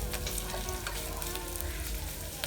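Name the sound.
onion frying with salt in a pan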